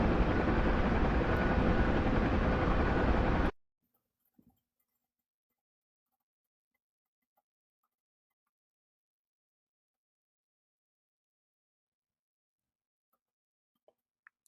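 A Huey helicopter in a combat flight game, its steady loud rotor and engine drone filling the first few seconds before cutting off abruptly into near silence with a couple of faint clicks.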